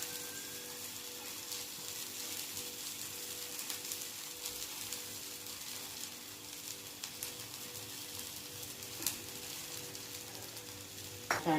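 Oil sizzles in a pan as a spinach paratha fries, a steady, fairly quiet hiss with fine crackling and a faint background hum. A couple of small knocks sound near the end, and nobody talks.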